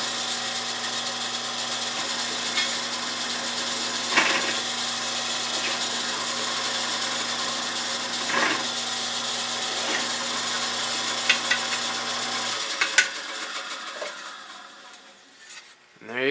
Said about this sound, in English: The countersink basically just smooths it out.